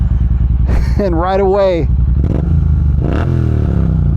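A tuned Triumph Bonneville T120 motorcycle with British Racing X-pipe and shorty pipes cranks and fires into a rough idle with one sharp rising rev, close and loud, while someone talks over parts of it.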